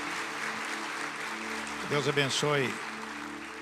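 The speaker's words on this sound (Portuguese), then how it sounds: "Uma salva de palmas para o Senhor Jesus." A church congregation applauds steadily at a moderate distance, and a voice speaks briefly over the clapping partway through.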